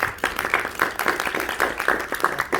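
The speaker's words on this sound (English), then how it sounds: "Please give him a big applause." Audience applause fills a hall for a speaker at a UN field trip visit to the Sudokwon Landfill in Incheon, a steady dense patter of many hands clapping throughout, moderately loud with no talk over it.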